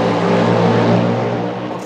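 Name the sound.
Cadillac hybrid naturally aspirated V8 race car at Le Mans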